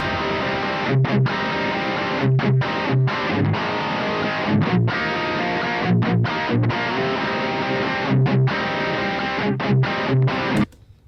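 Heavily distorted electric guitar through a modeled John Petrucci Mesa Boogie amp and 4x12 cabinet, playing chugging, palm-muted riffs with rhythmic stops, loud and continuous, ending abruptly.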